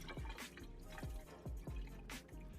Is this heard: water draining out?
yes